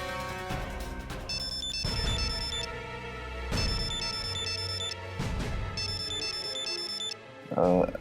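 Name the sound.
phone ringtone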